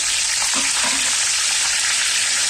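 Onion paste hits hot oil already fragrant with whole spices for a Mughlai-style nargisi kofta curry, giving a loud, steady, close sizzle that runs unbroken throughout with faint stirring.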